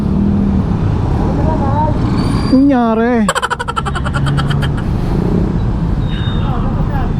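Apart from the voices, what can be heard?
motorcycle riding through heavy road traffic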